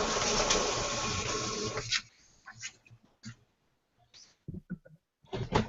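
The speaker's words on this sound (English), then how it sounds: "My printer has a mind of its own." An office printer runs steadily with a broadband mechanical whir for about two seconds, then stops, leaving quiet room noise with a few faint clicks and knocks.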